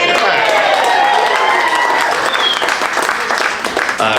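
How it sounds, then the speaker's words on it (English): Wedding guests at a lighthearted ceremony break into loud, sustained clapping that fills the whole stretch and thins slightly toward the end, with a voice or two mixed into the crowd noise. "Just you can clap that if you want."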